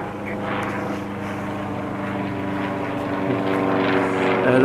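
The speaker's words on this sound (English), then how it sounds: "aeroplane going over." A propeller aeroplane passes overhead above a canal near an estate, a steady broad engine drone that swells slightly louder toward the end, with no talking.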